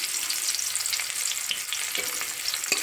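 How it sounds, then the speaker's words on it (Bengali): Chopped onion fries in oil with panch phoron (Bengali five-spice) in the oil left from frying fish pieces, producing a steady, close crackling sizzle with occasional stirring scrapes and no speech. "পেঁয়াজ ভাজা ভাজা হয়ে গেছে, হালকা ভেজে নিয়েছি।"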